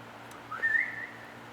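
A person whistles a short, wavering tone, voiced by a speaker imitating someone, brief and fairly soft over a quiet background.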